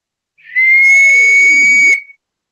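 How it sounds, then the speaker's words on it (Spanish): A Wari Tiwanaku ceramic whistling bottle gives one steady, clear, shrill whistle tone lasting about a second and a half, with a soft breathy rush under it, loud and alone. "esta es una botella silbato, es un instrumento de la cultura Wari Tiwanaco,"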